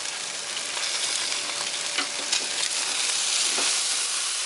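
Food sizzles steadily on an outdoor grill, a continuous crackling hiss with faint pops, close and moderately loud, with no voices.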